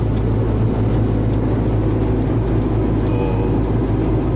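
Changan Karvaan van engine while driving, a steady low drone with road and cabin rumble, constant and fairly loud, no voices.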